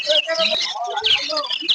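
Gouldian finches at a busy bird market, high rapid chirps and tweets repeating close by in short bursts, with some voice-like sounds mixed in.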